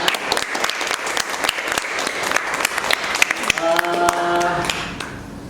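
A small group of students clapping at the end of a classroom group guidance session, loose uneven claps that build into fuller applause, with a voice speaking briefly near the end.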